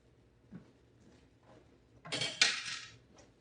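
Cheese being mixed into a sausage casserole in a metal pot, with a spoon scraping and clinking against the pot in a short, fairly loud burst near the end after quiet stirring.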